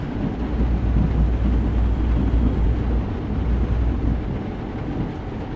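In American Truck Simulator during a night storm, a loud, deep thunder rumble rolls on for several seconds, then slowly fades into steady background noise.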